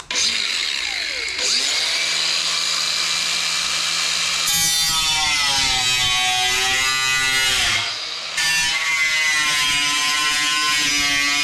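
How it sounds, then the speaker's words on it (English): A power tool grinds a line into a Lambretta's steel legshield, a loud close whine that drops, stops briefly and restarts, with its pitch wavering as it bites into the metal, no voices. "I'm going to do a grind line, bend it out"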